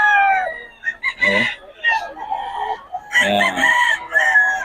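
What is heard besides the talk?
roosters crowing at a Bocaue market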